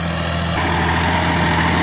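A Massey Ferguson 9500 Smart 4WD tractor engine idling, a steady low diesel rumble with a constant hum, close and continuous throughout.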